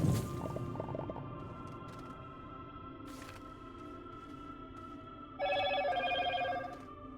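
Mobile phone ringtone chimes in a quiet room, a faint electronic ring early on and a brighter, louder burst of rapid tones near the end, with no talking over it.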